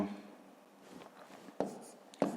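Pen or chalk writing numbers by hand for a fifth-grade long division problem, soft scratchy strokes with a couple of sharp taps, faint and close.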